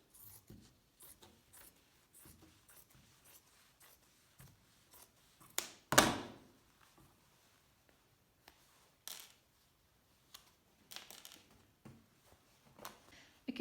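Scissors snip open the center front of a dress bodice during an alteration, a few faint sparse cuts with one louder sharp crunch midway, otherwise quiet handling.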